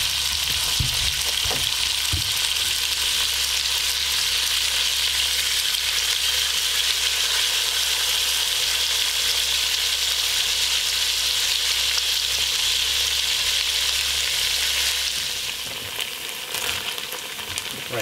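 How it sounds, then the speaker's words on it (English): Meat sears in a hot pan with a loud, steady, close sizzle that hisses without a break for most of the stretch, easing off slightly near the end; no one speaks. "Let that get nice and hot, and then I'll start searing those off."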